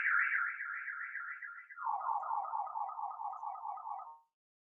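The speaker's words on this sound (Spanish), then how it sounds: "Disculpas que estaba sonando una alarma para no molestar mucho." An electronic alarm wails alone, a rapid warbling tone that holds high, drops abruptly to a lower warble, then stops after about four seconds.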